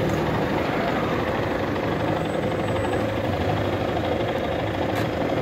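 A motorcycle engine idles at a standstill, a steady, fairly loud low rumble running evenly throughout with no talking over it.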